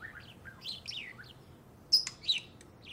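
Two pet birds chirp in a short sequence of bright, high tweets, with a couple of sharper, louder calls near the end over a quiet background.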